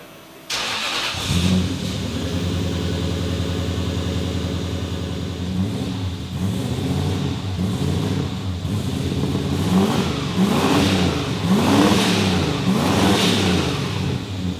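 A V8 turbo Ford Fairlane engine, untuned and cold, cranks and catches. It settles into a loud, lumpy idle, then climbs through several rising and falling revs close by.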